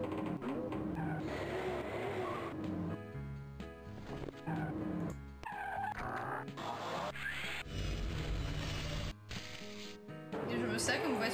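A car in the Spy Fox video game drives and skids, with engine drone and squealing tire slides rising and cutting out in bursts, with game music and sound effects around it.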